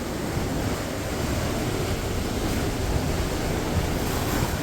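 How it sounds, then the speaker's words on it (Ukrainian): A Sunreef 60 sailing catamaran moving under sail at about 8 knots with its engines fully off gives a steady, loud rush of wind and water noise, broadband and unbroken throughout, with no voices. "Це ми йдемо під вітрилами."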